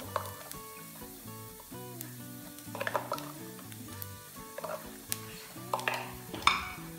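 Lemongrass fries in a pan while being stirred, a soft sizzle broken by repeated utensil scrapes and clinks against the metal, close and fairly quiet, with some background tones.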